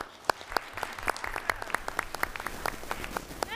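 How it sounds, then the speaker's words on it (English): An audience at a school board meeting breaks into sustained applause, a dense run of overlapping claps from many hands at moderate distance, steady for the whole stretch without any voices. "Let's hear one more applause for Centera RX."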